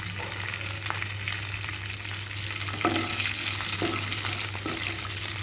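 Curry leaves and urad dal sputter in hot oil for a tempering, giving a steady close sizzle with occasional sharp pops and a low hum underneath, with no talking.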